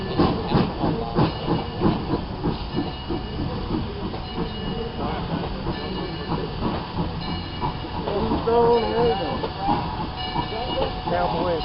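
Lehigh Valley 126 steam locomotive pulling into a Wild West-themed depot, with steady hissing steam and rolling train noise throughout, a voice speaking over it near the start.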